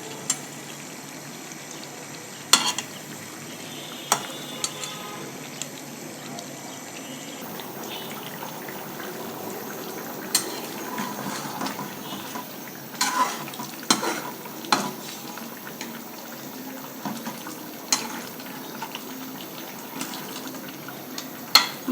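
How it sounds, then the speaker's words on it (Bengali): Pieces of pangas fish stirred in a pan of tomato and spice masala, with a steady soft sizzle broken by scattered sharp scrapes and clinks of the utensil against the pan, close and without talk. "মাছগুলো একটু নেড়ে ছেড়ে দিলাম"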